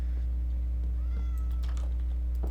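A Minecraft cat in a heavily modded world gives a short meow over a loud constant low hum and faint clicks.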